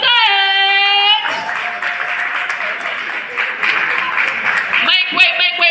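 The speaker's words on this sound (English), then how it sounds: "A round of applause for them as they make it to the podium, to their seat building conference." Audience applause at a South South zone debate as university contestants walk to the podium, sustained crowd clapping under a loud amplified announcer's voice and background music tones at start and end.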